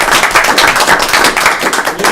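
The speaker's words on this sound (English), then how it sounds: "Round of applause." Audience applause at a city council meeting after an oath of office, loud and dense, with continuous clapping from many hands filling the whole stretch.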